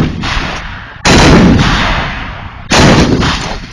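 Militia artillery fires two heavy booms close by, each sudden blast followed by a long rumbling decay, the second a little under two seconds after the first.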